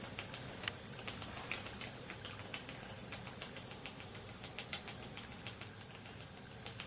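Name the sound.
unidentified slow-speed engine running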